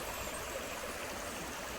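A fresh village river in the provinces flows steadily, a constant broad rush and babble of water with no breaks and no voices.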